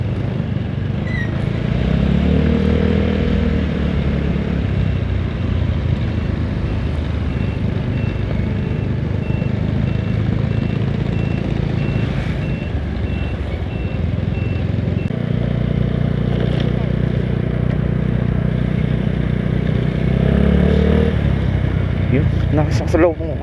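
Motorcycle engine idling and running steadily up close at a roadside repair stop in Arayat, Pampanga, with people talking over the continuous low drone throughout.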